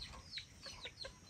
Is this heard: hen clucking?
yes